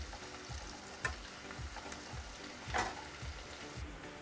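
Onions fry in a pan for Punjabi-style sarson ka saag, giving a soft, steady sizzle with faint stirring scrapes and a couple of brief clinks, no talking.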